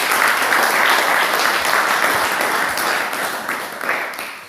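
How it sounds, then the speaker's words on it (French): A church congregation claps together in sustained, loud applause that starts full and gradually fades toward the end. "Applaudissons pour le Seigneur."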